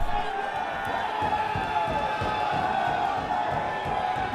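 A wrestling arena crowd keeps up a steady roar of cheering and shouting at a live pro wrestling show, with commentary voices faintly mixed in.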